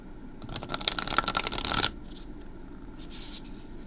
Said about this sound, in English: okay, do one more shuffle.